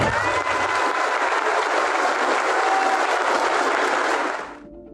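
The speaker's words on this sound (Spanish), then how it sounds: "un aplauso para todos nosotros" Crowd applause at a rally held by an activist and teacher in Chicomuselo, a loud, dense wash of clapping with some cheering from hundreds of people, cutting off sharply near the end.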